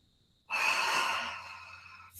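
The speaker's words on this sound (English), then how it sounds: "Again, breathing deeply." A single deep breath during guided meditation comes as a close, airy exhale lasting under two seconds, soft and unaccompanied by speech.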